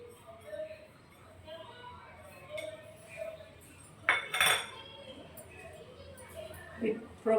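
A spoon mixes cabbage pickle with warm oil in a bowl, giving soft scraping and a few sharp metallic clinks against the dish, heard close under a voice speaking Telugu.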